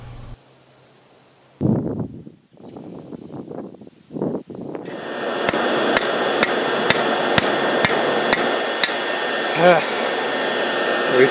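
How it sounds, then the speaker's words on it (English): Metal being hammered with a round-faced hammer, forging a Roman gladius scabbard: a steady series of sharp, ringing strikes after some rustling and handling noise, close and loud. "I had to hammer on the inside of the curves"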